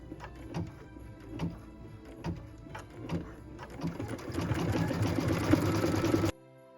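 A sewing machine stitches with dark green thread, first in short separate bursts of stitching, then in a longer continuous run that stops abruptly near the end.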